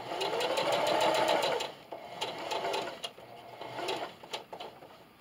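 A sewing machine stitches fabric for a Valentine's Day envelope with a fast, steady mechanical whir. It stops partway, and a few clicks and short bursts of stitching follow, close and clear.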